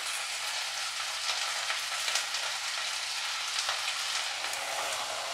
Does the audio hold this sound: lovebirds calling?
no